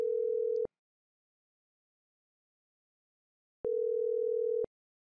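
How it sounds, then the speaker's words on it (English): A call placed by speed dial to Halifax rings out as two clean, steady electronic tones about a second long, separated by roughly three seconds of silence, with nothing else audible. "Here we make a call to the user in Halifax using the speed dial button we just configured. Just press the button and the call is placed."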